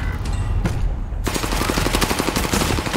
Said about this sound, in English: Kevin, cover fire top.